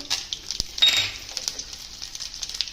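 Cumin seeds and garlic hit hot oil for kadhi, giving a close, steady hiss of sizzling with small crackles and pops.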